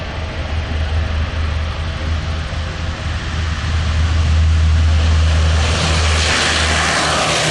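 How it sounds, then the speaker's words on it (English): A military turboprop aircraft passes at an air show flypast, its propellers and engines producing a loud, continuous droning roar that swells in intensity toward the end. "We can flip all those propellers into reverse thrust. So we'll be bringing the throttles all the way back to the closed position and then over again."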